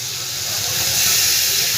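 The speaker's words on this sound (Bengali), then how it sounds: "ভালো করে মশলাটা একটু আমি ভাজবো।" Ground paste of ginger, garlic and onion hitting hot oil makes a loud, dense hissing sizzle that holds steady and grows slightly stronger, with no voices.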